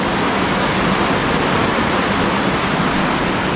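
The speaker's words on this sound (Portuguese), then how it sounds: "Barulhinho da água." Loud, constant rush of flowing water beside a campsite in open nature, a dense unbroken hiss with no voices over it.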